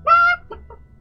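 A person's voice imitates a hen's clucking: one drawn-out nasal cluck followed by two short, quieter clucks, close and alone.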